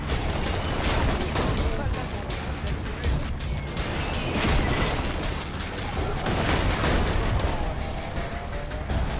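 Rapid gunfire from Borderlands 2 rattles continuously and loudly throughout, with dense crackling bursts and mechanical clatter blending into a constant barrage of in-game combat noise.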